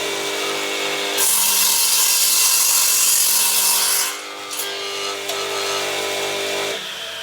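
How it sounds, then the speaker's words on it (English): An Elu TGS 172 combination saw set up as a drop saw cuts a piece of wood: the motor hums, then a loud rasping bite through the board lasts about three seconds before easing into a lighter whir. "I'm just going to cut a piece here."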